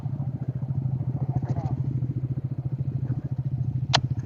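A small group of motorcycles riding together on the road, with a steady throbbing engine drone pulsing close by and a brief sharp click near the end.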